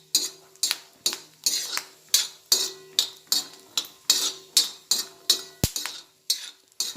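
Peanuts being stirred in hot oil in a pan make a steady, rhythmic run of clinks and scrapes as a utensil sweeps across the metal roughly twice a second, close and clear, with a faint sizzle beneath.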